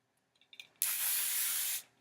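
Hairspray hissing out of an aerosol can onto styled hair in one steady, close burst of about a second, following a few faint handling clicks.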